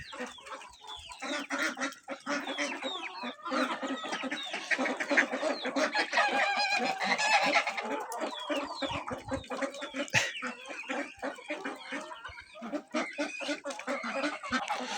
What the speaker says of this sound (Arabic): شوف بهالبرد البط جاي يسبح.